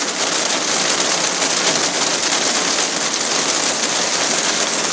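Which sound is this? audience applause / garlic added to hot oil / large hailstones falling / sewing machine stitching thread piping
large hailstones falling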